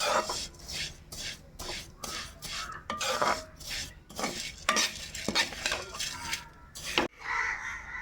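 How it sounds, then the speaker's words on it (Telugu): A spoon scrapes and stirs repeatedly through dry, gritty semolina roasting in ghee in a pan, with light clinks and a soft sizzle underneath, close and steady. "కేసర్లోకి కొద్దిగా నెయ్యి వేసి సరిపడా నెయ్యి వేసి రవ్వనైతే మొత్తం దోరగా వేయిస్తున్నాను"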